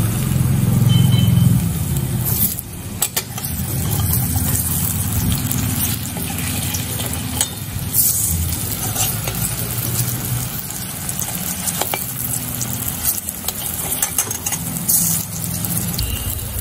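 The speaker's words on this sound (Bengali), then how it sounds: "তেলটা গরম করে আমি এই বড়ার মতো কোপ্তাগুলো সব ভাজার জন্য ছেড়ে দিচ্ছি।" Eight pointed gourd koftas fry in hot mustard oil in a wok, giving a steady, even sizzle that hisses on without pause, with a brief heavier burst of bubbling at the start.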